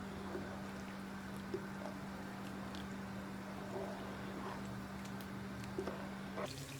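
Onion and tomato sautéing in oil over a high flame, a steady low sizzle and bubbling that runs continuously at moderate level with a constant hum beneath, ending with a brief shift near the close.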